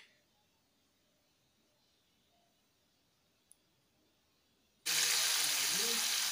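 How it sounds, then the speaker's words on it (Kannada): Butter boiling and bubbling in a pan while being cooked down into homemade ghee, a loud steady sizzling hiss that starts suddenly after near silence. "ನೋಡಿ ಈ ರೀತಿ ಬಬಲ್ಸ್ ಬರೋ ಥರ ಕುದೀತಾ ಇರಬೇಕು"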